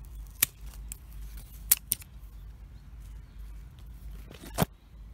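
Garden scissors snipping away side shoots at the base of summer vegetable plants, a few sharp separate clicks over a quiet outdoor background.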